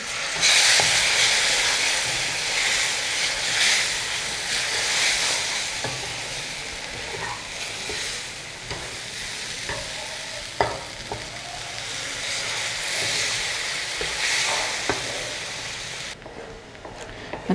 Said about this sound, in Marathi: तर आता यात आपल्याला दूध घालायचं आहे.